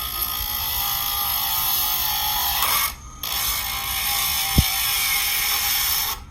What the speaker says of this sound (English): basically you just turn on your grinder